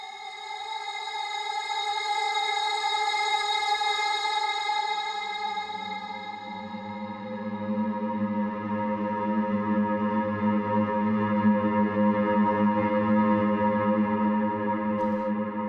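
A sustained, shimmering granular synth pad with a slow attack builds gradually, a low droning layer swelling in after a few seconds, heavily processed with chorus and echo.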